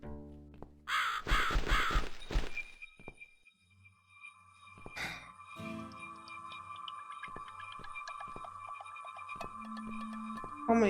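Crow cawing in The Cat Lady video game, a quick run of harsh caws at the start followed by sustained eerie tonal game ambience with scattered clicks.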